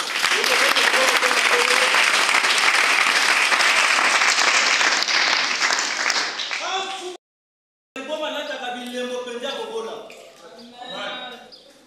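A church congregation bursts into loud, sustained applause that fills about seven seconds and then cuts off, followed by someone talking.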